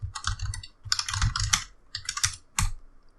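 A computer keyboard clatters as a Docker command is typed, with rapid close bursts of loud keystrokes in three or four runs broken by short pauses, with no talking.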